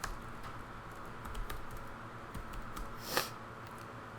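Someone types on a computer keyboard, producing soft, close, rapid clicking keystrokes in an uneven rhythm, with one sharper key tap near the end and no talking.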